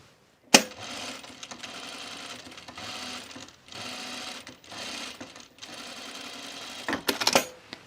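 A sewing machine understitches a Mercer top, stitching in several steady runs separated by short pauses, with a sharp clatter near the end.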